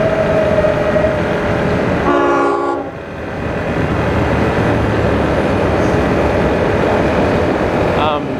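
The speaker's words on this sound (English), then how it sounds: "there's a train." A train rolls past loudly with a steady roaring rumble, and its horn sounds in a short blast partway through, with a brief second honk near the end while people talk over it.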